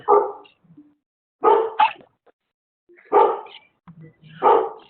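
A dog barks in several sharp bursts, loud and close, with silent gaps between them and a few softer yips, intruding on a phone or video call.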